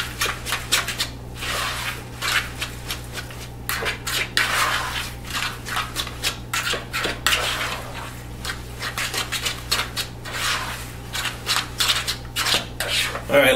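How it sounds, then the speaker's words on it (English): Coleslaw being tossed with mayo and vinegar: steady, rhythmic wet rubbing and scraping of a utensil against a bowl, close up and continuous, with occasional clinks. "Just mix it all around."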